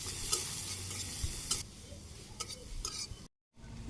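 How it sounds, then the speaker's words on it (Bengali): Chopped onion and green chili fry in a pan with soft sizzling and repeated spoon-stirring scrapes, a few sharper clinks of utensil on metal, and a brief drop to silence near the end. "পেঁয়াজ কুচি দিয়ে দিচ্ছি, কাঁচামরিচ দিলাম, হালকা ভাজি করে নিই লাল করে।"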